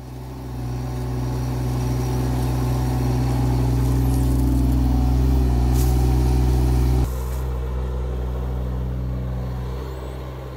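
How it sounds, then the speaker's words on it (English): Rhino XN20 mini digger shifting driveway material with its bucket, a steady close diesel engine drone with deep low rumble, easing down partway through and fading at the end. "I just work away at it with the digger and shift it round to where I want to with the bucket"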